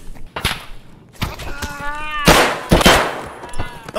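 Gunfire in the video game Escape From Tarkov: several sharp, loud shots in uneven bursts, some close and ringing, mixed with shouted voices.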